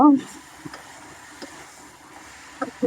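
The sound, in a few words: drumsticks and potatoes being stirred in a frying pan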